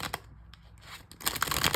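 A deck of tarot cards is shuffled close by: a few soft riffles and flicks, a brief lull, then a fuller burst of rapid papery fluttering as the cards cascade together.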